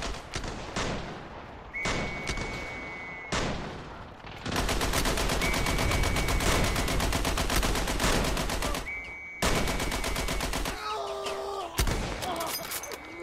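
Sustained machine gun fire from an MG nest in the WW1 battlefield game Ravenfield, loud dense rattling bursts with short gaps, broken by a few brief pauses.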